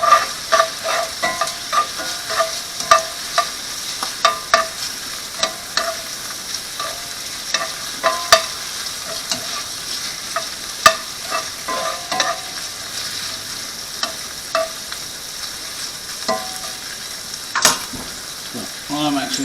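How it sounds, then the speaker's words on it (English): Garlic sizzles gently in a pan over low heat for a long stretch, with a steady crackle and frequent scrapes and stirs close by. Quiet talk sits faintly underneath. "I want to keep my heat low because I don't want my garlic to burn."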